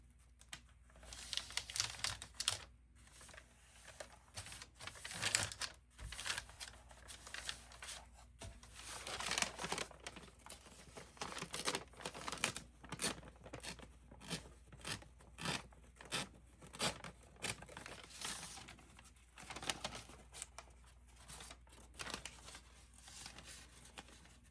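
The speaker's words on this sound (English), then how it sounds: "I'm going to try tearing." Paper is torn and crinkled by hand for a junk journal made from vintage paper, a quiet, close series of irregular rips and rustles running continuously with brief pauses, and no voices.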